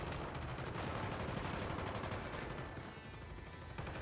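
Dense, continuous gunfire from a weapon in the Call of Duty: Black Ops video game, a sustained wall of rapid shots that thins slightly near the end, with no talk.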